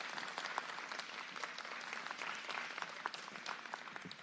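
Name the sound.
audience applause for council candidates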